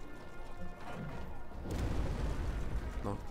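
Cannon shots slam into a city in Die Siedler 6, a few crashing impacts and rumbling booms layered over busy battle noise.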